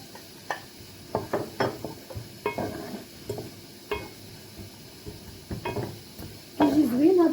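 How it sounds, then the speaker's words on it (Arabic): Onion and garlic fry in a pan with a soft, steady sizzle. Sharp clinks of stirring and utensils tapping the pan come at irregular intervals, growing busier toward the end. "هنايا غادي ندير هاد البصله والثومه. صافي غنخليها تشحر مزيان"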